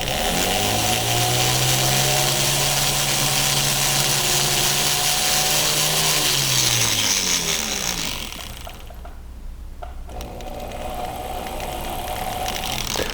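An abrasive rotary tool whines steadily at high speed while pre-polishing solder lumps on silver wire, loud and close, its pitch dropping briefly as it bears down before recovering.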